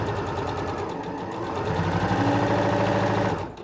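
A SINGER Professional 9100 sewing machine stitches a seam in a steady, fast mechanical run that rises slightly partway through, then winds down at the end, heard close with no talking.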